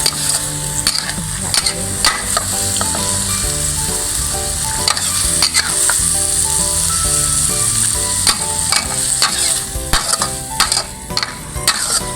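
Thinly sliced pork is stir-fried with red curry paste in a pan, with a loud, continuous sizzle under rapid, repeated clatter and scraping of the spatula against the pan.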